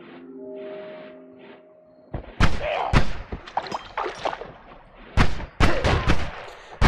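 Enemies in the game Noita firing shots: after a quiet, humming start, a series of loud, sharp bangs and thumps lands in irregular clusters, close and punchy.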